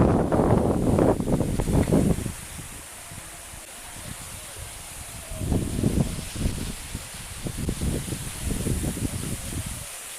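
Wind buffets the microphone in rumbling gusts, with rushing noise throughout and a person speaking briefly under the blustery sound.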